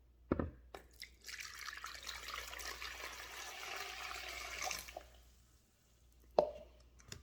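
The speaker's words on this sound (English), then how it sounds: "First thing you want to do is to pour a cup of warm water" A cup of warm water pours into a bowl for puff-puff dough: a soft, steady splashing stream lasting a few seconds, framed by light knocks and a clink.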